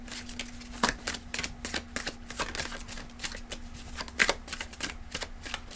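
Tarot cards riffled and shuffled by hand in a quiet room, a run of crisp, rapid flutters and soft slaps repeating in bursts, close and fairly faint, with a steady low hum underneath.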